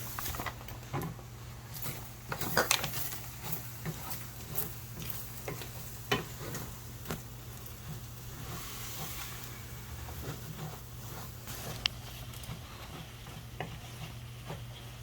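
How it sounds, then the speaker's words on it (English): Flour is stirred into sausage fat in a cast iron skillet, giving a soft, quiet sizzle. Irregular scraping and stirring taps sit over a low steady hum. "we're going to add enough flour to absorb up the fat and oil that's in our skillet"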